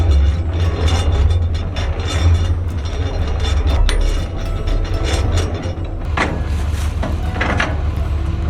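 A trailer is hooked up to a truck: loud mechanical clanking and ratcheting over a heavy, steady low engine rumble, with a burst of metallic knocks near the end.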